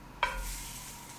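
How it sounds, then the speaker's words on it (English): A sudden sharp sizzle bursts out as a pork chop hits a hot pan, then settles into a steady, softer frying hiss that fills the rest. "Ready for the sizzle?"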